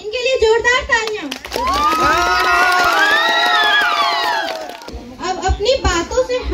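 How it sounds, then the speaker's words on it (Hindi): A crowd at a school Teacher's Day celebration cheers and whoops loudly for a few seconds after a performance, with people talking before and after. "इस धमाकेदार परफॉर्मेंस के लिए एक बार इनके लिए जोरदार तालियां।"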